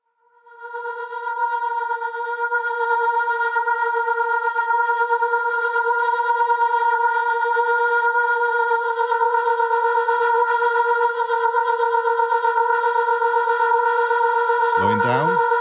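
Fluss granular synth drone with moving scan speed and a sweeping filter cutoff, a steady layered tone with shimmering, pulsing upper grains that fades in and holds loud throughout, ending in a sudden pitch swoop.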